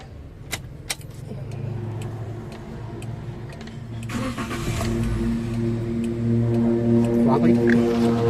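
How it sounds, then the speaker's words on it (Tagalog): A Toyota Avanza that had been misfiring, idling unevenly and overheating cranks and starts about halfway through, then settles into a steady idle inside a workshop. Clicks and key sounds come first, and a voice talks over the engine. "pwede ko na ngayon i-start itong makina"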